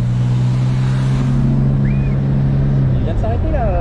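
A BMW car engine warming up, a steady low hum that holds evenly near the listener, with voices speaking over it and the tone shifting toward the end.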